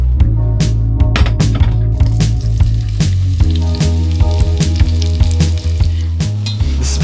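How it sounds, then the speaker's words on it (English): Onions frying in a pan aboard a narrowboat, a loud, close, continuous sizzle with crackles and stirring scrapes throughout, no talking. "The smell of onions frying."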